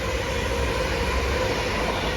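Passenger train on the 13:15 service to Northampton pulling into a station, a steady broadband rumble and rail noise held at an even level throughout, fairly close and with no voices.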